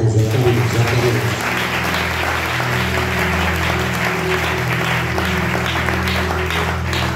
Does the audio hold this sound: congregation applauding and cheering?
yes